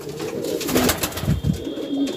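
A pigeon coos close by, a few low throaty rolling coos in quick succession, with no talk.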